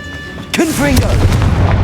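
A Confringo spell explosion in the Hogwarts Legacy video game, a sudden booming blast with a rumbling tail, loud and close, as a voice calls out over the impact.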